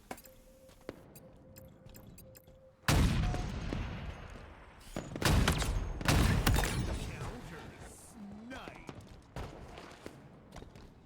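Gunfire in a Halo Infinite match, a loud burst of shots starting a few seconds in, then another cluster of blasts midway with quieter game noise between, while a voice talks over the action.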